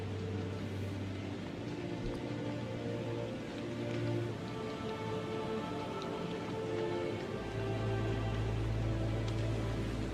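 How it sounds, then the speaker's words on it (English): Heavy rain pours down steadily as a dense, continuous hiss that stays fairly even throughout, with a low rumble underneath. "The rains poured down onto the earth, and the floodwaters quickly rose."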